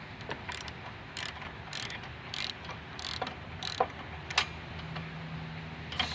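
A new snowblower spark plug is ratcheted down with a spark plug socket, giving a series of soft, irregular clicks and ticks close by over a low background hum.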